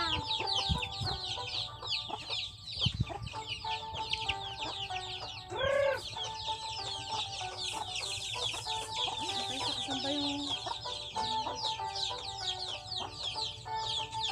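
Several hens cluck continuously at close range, overlapping in a busy chorus, with an occasional louder squawk rising above the flock.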